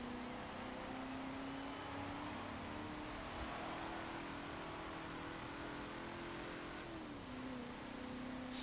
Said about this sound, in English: Still sounds really good as well. Probably a little bit better because it's got a more open exhaust.